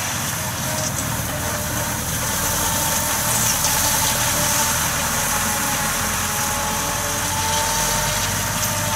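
A tractor engine used for hay mowing idles loudly and steadily nearby, a constant rumbling chug with a faint high whine throughout.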